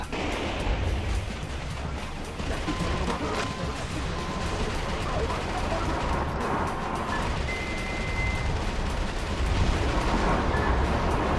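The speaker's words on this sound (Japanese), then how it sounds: "敵もなんか爆弾の爆発に巻き込まれるんだ。" Explosions and heavy gunfire rumble continuously in the Metal Wolf Chaos XD video game, dense and booming throughout, with a person talking faintly underneath.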